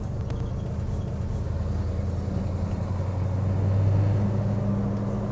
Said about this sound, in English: And we're rolling over all the bumps.